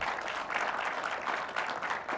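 An audience at a Kenyan travel expo claps for a general after his Pan-African speech, a soft but continuous wash of applause that stays even throughout.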